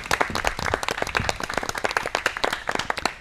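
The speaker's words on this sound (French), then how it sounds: "On peut l'applaudir." Studio audience on a French automotive talk show welcoming a guest, a close, lively burst of clapping from a modest crowd with distinct individual hand claps at an uneven rhythm.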